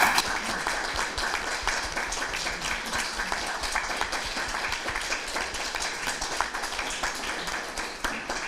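Audience applause at an international conference session, a steady wash of many hands clapping at moderate distance that carries on evenly throughout without speech over it.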